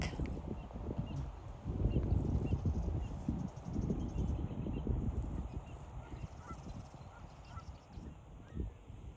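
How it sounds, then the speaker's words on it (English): A mallard duck calls outdoors with rough, repeated honking notes, fairly faint and mixed into steady background noise. "Mallard duck."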